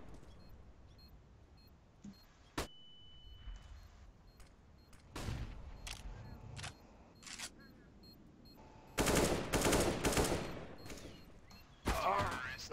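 Gunfire in a Counter-Strike match: scattered single shots and short rapid bursts, loud and sharp against quiet background, with a clustered volley near the end and brief voice chatter in between.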